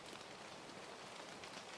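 Rain falls steadily outside a house as a soft, even, continuous hiss of drops, faint and distant, with no voices or other sounds.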